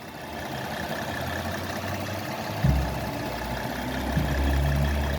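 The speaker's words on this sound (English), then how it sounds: "Shot of the exhaust with the motor running." A 2015 Kia Sorento engine idles steadily at close range near the exhaust, a low continuous hum with a slight rise in rumble partway through, no voices.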